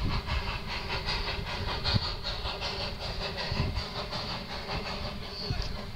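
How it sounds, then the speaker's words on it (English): An old steam train passes outdoors with a continuous hissing rumble and a rhythmic clatter of wheels, loud and close throughout. "That's an old steam engine coming."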